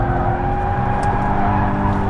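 A 2015 Mazda MX-5 drives hard through a fast corner in oversteer, its engine droning loudly and steadily while the tires squeal faintly underneath.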